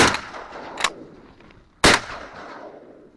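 Two shotgun blasts ring out during a duck hunt in Florida, each a sharp loud crack about a second apart, followed by a decaying outdoor echo and no talk.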